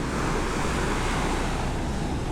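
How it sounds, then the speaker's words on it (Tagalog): Strong ocean waves crash and wash continuously on a Puerto Galera beach, a loud, steady roar of surf with wind buffeting the microphone and no voices. "Pero ang lakas ng alon mga tol."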